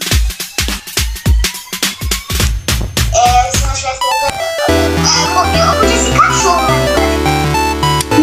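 A tamed wolf in the Minecraft video game gives a rapid run of short yips and whimpering barks, loud and close, before the game's music swells and carries on alone.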